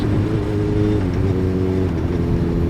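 A Honda CB1000R motorcycle on a road ride, its engine loud and close in a steady harmonic drone that dips slightly near the end as the throttle eases for a clutchless upshift.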